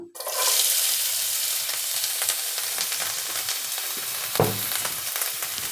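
Carrot pieces fry in a little oil for a vegetable kajjikaya stuffing, a steady close sizzle with occasional stirring scrapes and one brief louder clatter near the end, and no talking.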